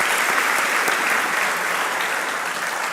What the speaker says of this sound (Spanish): Le damos un aplauso a la hermana Andrea, por favor